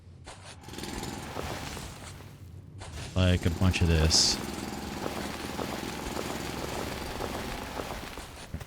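Drilling machine in the factory-building game Foundry, a loud burst of grinding, pulsing mechanical noise lasting about a second over steady machinery hum, with a voice talking through the clip.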